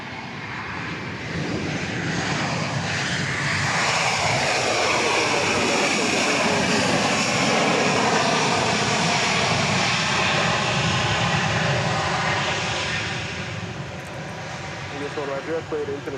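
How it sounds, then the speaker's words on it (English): A Southwest Boeing 737-700 airliner at Dallas Love Field roars loud and steady for most of the stretch, a broad jet engine rush that swells and then eases toward the end, with radio talk faintly beneath. "There you have Flight 1978, a 737 700."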